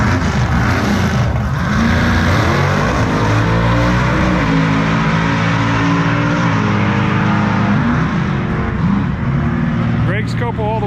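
A nitrous Foxbody Mustang roars down a quarter-mile drag strip with a loud, rising engine howl through gear changes, heard under continuous talk from a commentator.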